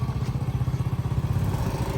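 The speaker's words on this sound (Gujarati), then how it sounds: "અમે બાઇકમાં જઈએ છીએ." Motorcycle engine running at a steady low putter during a night ride through a village, with a close, rhythmic thumping pulse throughout and no talk.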